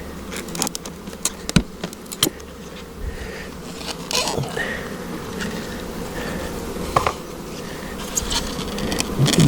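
Honeybees buzzing around an open hive box during an inspection, a steady close swarm drone with individual bees zipping past the microphone and occasional knocks and rustles of handling.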